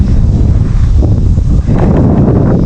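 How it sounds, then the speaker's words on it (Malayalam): Strong wind buffets the microphone at a hilltop rock viewpoint in Idukki, a continuous loud rumbling roar with gusty swells and faint rustling. "നല്ല കാറ്റുണ്ട്"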